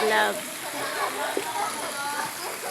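Steady rain-style water shower spraying down over a swimming pool, splashing, with voices talking over the continuous hiss and splatter.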